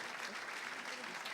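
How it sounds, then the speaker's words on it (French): Steady applause from an awards ceremony audience greeting a guest called to the stage, a dense continuous wash of clapping at moderate volume with no gaps, heard from within the hall. "on applaudit Mecca"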